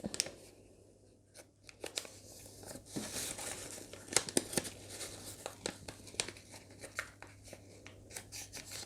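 A sheet of paper is turned over and folded into a paper fortune teller, giving close, intermittent crinkles and soft rustles with brief sharp creases and quiet gaps between them.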